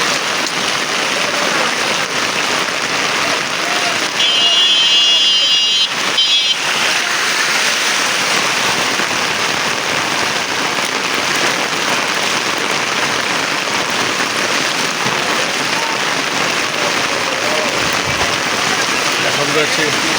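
Heavy rain pours steadily over a flooded city street with knee-deep water, a dense, continuous hiss that stays loud and unbroken throughout, with a brief shift in texture near the middle.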